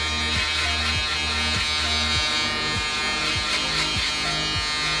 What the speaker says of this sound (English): try to keep the shaver as parallel with your face as possible